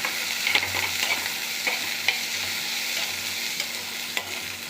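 Thin slices of ivy gourd sauté in a pan, giving a steady sizzle broken by repeated light scrapes and taps of a spatula stirring them, close and moderately loud, with no speech.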